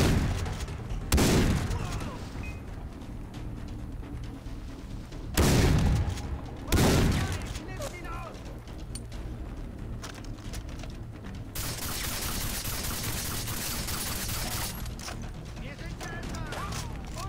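Gunfire in the video game Far Cry 3 comes as a few loud, short bursts of shots over game background noise, followed by a longer hissing stretch, with someone talking at times.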